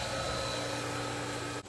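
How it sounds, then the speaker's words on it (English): A pool filter pump runs at a steady, loud mechanical hum with a constant whirring drone, then cuts briefly near the end. "turn your filter on"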